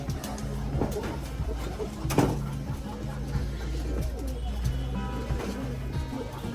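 High-flyer pigeons cooing softly in a home loft, low repeated coos over a faint background with occasional clatter and brief speech.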